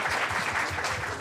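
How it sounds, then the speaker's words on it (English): Steady applause from a conference audience fills the room, a dense, continuous patter of many hands at moderate loudness with no voices over it. "So you can clap for that"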